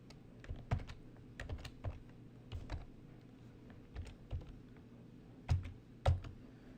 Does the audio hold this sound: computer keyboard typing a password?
yes